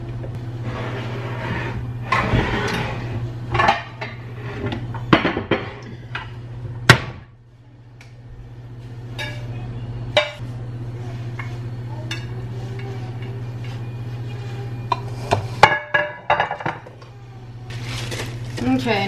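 Glass 9 by 13 inch baking pan being greased and handled in a home kitchen, with scattered clinks, knocks and scrapes of glass and utensils, one sharp clatter, over a steady low hum and occasional quiet talk.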